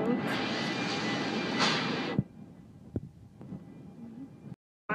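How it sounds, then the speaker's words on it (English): Airplane engines roar steadily from inside the cabin for about two seconds, then the noise drops away to a quieter hum with voices talking and a few knocks. "On the plane, look outside. I'm on the plane."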